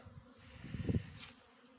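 Honeybees buzz faintly around the hive on their early-February cleansing flight, a soft droning hum rising briefly as insects pass close.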